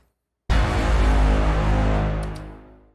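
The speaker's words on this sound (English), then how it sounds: "A Bram is like a low sounding horn or synthesizer that you pair with, with those cinematic hits to add a little bit more density and dramatic effect" A low cinematic braam, a deep horn-like synth layered with a heavy cinematic hit, bursts in loud and dense after a short silence, then sustains and slowly fades out over about two and a half seconds.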